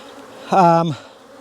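A single bee buzzes close by for about half a second near beehive frames at a dead hive, a loud droning hum that rises and then cuts off.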